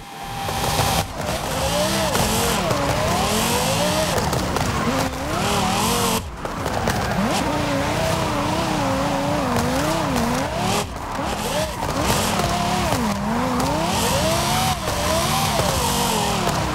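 Car engine in a racing video game on a track built on a lake, whining steadily and loud for the whole run, rising and falling with gear changes and turns, with tire squeal in places and no speech.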